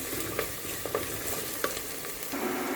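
Steady sizzle of onions frying in oil, with occasional scrapes and taps of a spoon stirring them in a pan, close and continuous, no voices.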